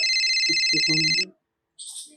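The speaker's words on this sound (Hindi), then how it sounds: "फोन आ रहा है" An incoming call rings on a mobile phone, a bright electronic ringtone that plays steadily for just over a second and stops. After a short silence a brief burst follows, with faint talk under the tone.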